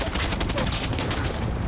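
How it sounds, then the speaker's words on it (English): Dense, sustained burst of light machine gun fire in Far Cry 6, a continuous crackling volley of rapid shots filling the whole stretch at steady loudness, with no pause between rounds. "LMGs hold a lot of bullets"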